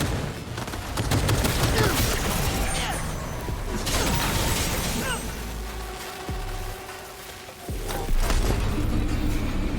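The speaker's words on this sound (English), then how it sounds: "Who's shooting?" Gunfire in the video game Cyberpunk 2077 comes in loud, dense volleys with booms and mechanical clatter amid game ambience, while a voice talks over parts of the fighting.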